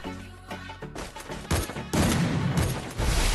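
Gunfire in a video game rings out in close, loud bursts, a few separate shots at first and then rapid overlapping volleys that build into a dense fusillade.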